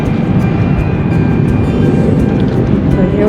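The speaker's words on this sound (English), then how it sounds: "The noise you hear in the background is we're right next to the San Diego Airport." Steady, loud broadband roar of aircraft near San Diego Airport, heard from the waterfront at the Maritime Museum beside historic ships, filling the whole stretch without letup.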